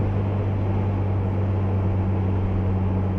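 A 2023 Ford Bronco Heritage with a 2.3L EcoBoost engine, manual gearbox and FlowMaster FlowFX muffler drones steadily and loudly while driving in a low gear, with a deep, even exhaust hum and no voices.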